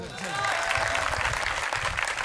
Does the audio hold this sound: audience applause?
yes